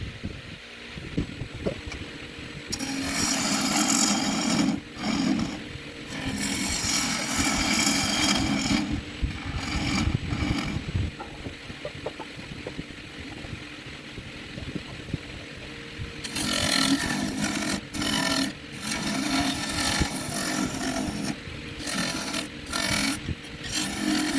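Kwila wood being turned into a square bowl on a lathe, a steady loud motor hum overlaid with rough, intermittent cutting bursts that start and stop repeatedly as the tool bites the spinning blank.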